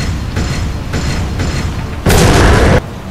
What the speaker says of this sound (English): Yes, I think grenade might work here.